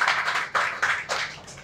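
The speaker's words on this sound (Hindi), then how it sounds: "तो आरोग्य पीठ जी बजा दीजिए ताली" An audience at a lecture breaks into clapping, a few strong bursts of hand claps that come close and fairly loud, then begin to thin out.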